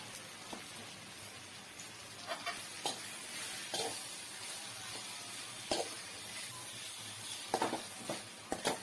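Cut chapati pieces frying and being stirred in a pan with sautéed onion and tomato, for kothu chapati: a steady close sizzle broken by repeated sharp scraping and tossing knocks, with no voices.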